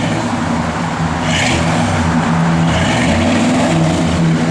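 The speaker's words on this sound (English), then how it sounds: "Go ahead and give it a little rev, Dale." A 1967 Chevrolet Malibu V8 with a mild cam idles loudly and revs briefly, its steady low rumble rising about a second in and holding near and strong throughout.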